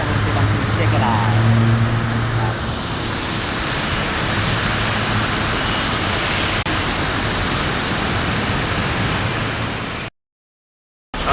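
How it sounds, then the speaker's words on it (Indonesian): Heavy rain pours down in a dense, continuous hiss, loud and unbroken for several seconds before cutting out abruptly near the end. "hujannya serius nih, hujannya nggak bercanda nih, agak deras"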